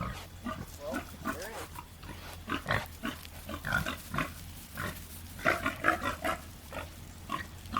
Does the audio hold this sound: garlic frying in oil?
no